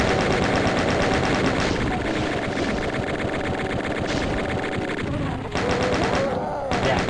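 Chain gun firing nonstop in Doom 2 on the Amalgoom Map 10, a loud, dense rapid-fire rattle of shots that runs through the whole stretch with hardly a pause.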